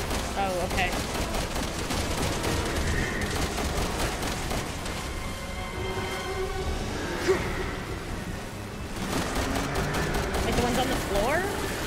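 Rapid bursts of gunfire during Resident Evil 6 gameplay, repeated shots in an almost continuous barrage, loud and close, with a player's voice talking over parts of it.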